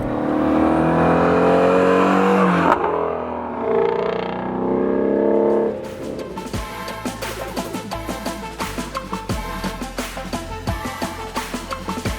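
A Shelby Mustang GT350 engine revs hard with a loud, strained exhaust note in sport mode, then drops into a choppy, rumbling idle punctuated by sharp bursts, close by.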